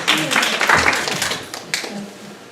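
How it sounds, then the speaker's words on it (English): An audience at a local history talk in Half Moon Bay gives a round of applause, loud clapping at first that thins and fades toward the end. "Come on, guys, let's have a round of applause for Miramadas."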